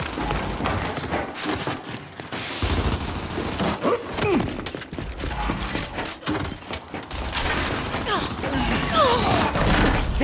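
Gunfire and a frag grenade blast in Gears 5, dense bursts of shots and heavy thumps throughout a busy battle, with shouting voices in the mix.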